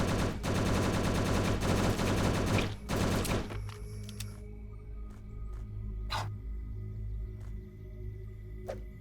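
Rapid automatic gunfire shooting zombies in the twin-stick shooter Last Hope Bunker, a dense loud burst for several seconds, then scattered single shots and clicks over a quieter game background.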